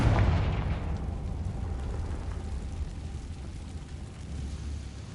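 A fire-blast spell explosion in Hogwarts Legacy: a loud, deep boom bursts at the start, then a long low rumble fades steadily away with no talk over it.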